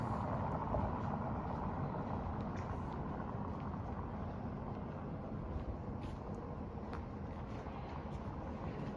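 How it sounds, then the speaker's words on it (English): Cars rolling over a modern cobblestone street in an old Finnish town, a steady low rumbling drone of tires and engines that holds for the whole stretch, moderately faint, with street ambience and no clear talk. "This is like a modern cobblestone street, and you can hear the sound when cars are passing by."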